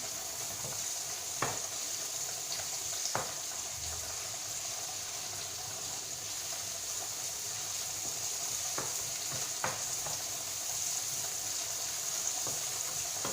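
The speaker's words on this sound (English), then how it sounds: "I'm going to mix the mushroom." Mushrooms sizzle steadily in a pan while being stirred for pasta, with a constant frying hiss and a few sharp clicks of a utensil against the pan, close and moderately quiet.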